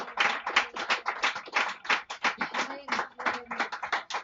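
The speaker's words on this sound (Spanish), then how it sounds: "Dale una fuerte salva de palmas." Church congregation applauding, a dense patter of many hands clapping at a lively, uneven rhythm, with voices mixed in under the applause.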